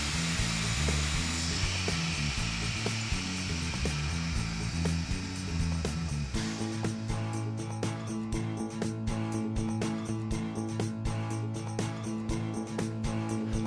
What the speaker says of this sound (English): mount your mating piece in the mortise mill and cut the mortise as you did before